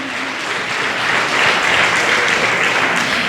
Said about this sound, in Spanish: Bríndale fuerte palmas al Señor.